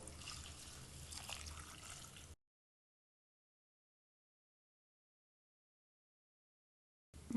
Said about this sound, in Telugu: ఇప్పుడు వీటికి తగినన్ని నీళ్లు పోయాలి